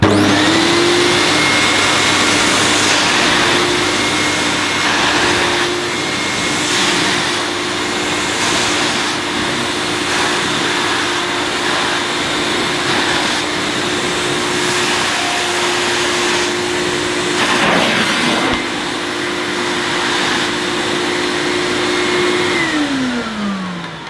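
A vintage Morphy Richards Handy cylinder vacuum cleaner runs steadily at close range, its motor holding a constant whine with a strong low hum for the whole stretch, and brief bumps and rattles of the nozzle along the way.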